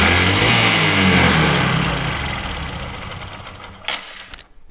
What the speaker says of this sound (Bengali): তো ইঞ্জিনের সাউন্ডে শুনুন।